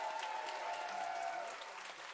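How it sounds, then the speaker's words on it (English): Audience applause at a live comedy music show in a theatre, steady dense clapping that stays fairly even and then eases slightly, with a voice faintly heard underneath. "give yourselves a round of applause"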